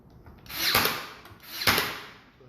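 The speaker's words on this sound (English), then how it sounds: "I've got my stainless steel staple master here" A stainless steel staple master drives stainless steel pins into the wooden meeting rail of a double hung window's top sash, with two sharp pneumatic bursts about a second apart over a hissing background.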